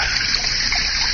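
Water splashes from a garden fountain in an old-time radio drama, a bright steady hiss of falling and trickling water, loud and close, with no voices.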